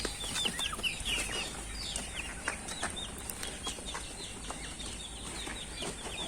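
Local desi hens and a foreign rooster scuffle with Pakistani chickens, with bursts of wing flapping and scattered clucks and chirps that carry on throughout at moderate distance.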